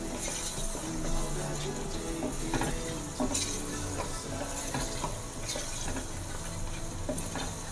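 Ghee cooking in a kadhai while being stirred, a steady close sizzle and frying hiss with the scrape and clink of the spoon against the pan, and no talking.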